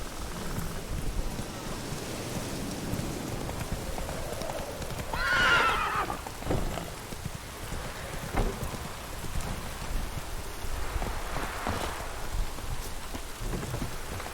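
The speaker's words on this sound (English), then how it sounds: "Whoa there, Roach" Horse hooves clip-clop through rain in The Witcher 3 open-world game, with a clear whinny rising midway and distant thunder rumbling beneath steady rainfall.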